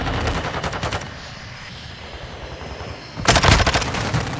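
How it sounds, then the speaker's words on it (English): Video game gunfire at long range: a rapid automatic burst of loud shots, a short lull with a low background rumble, then another fast volley, no talking. "All these long-range freaking shots be killing me"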